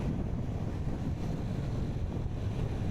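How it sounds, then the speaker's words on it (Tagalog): Wind rushes past a cyclist riding a bike in Marikina City, a continuous, fairly loud low roar of buffeting air with no talking. "Sarap ng hangin."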